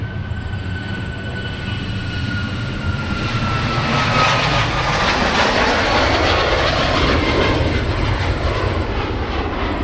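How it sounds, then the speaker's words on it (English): An Icelandair airliner takes off at Minneapolis–St. Paul airport, its jet engines a loud, continuous roar that swells and holds steady throughout. "Iceland Air is ready to get airborne."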